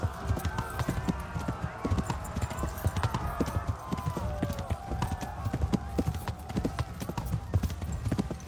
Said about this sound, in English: Just ran the horses into him.